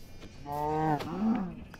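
A sheep in the Minecraft video game lets out a single drawn-out bleat, fairly clear against a quiet background, with a brief wavering tail.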